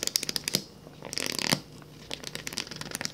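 Thin pages of a well-used 2014 leather King James Bible being flipped and handled, a run of crisp rapid paper riffles and rustles close to the microphone, in quick bursts with short pauses.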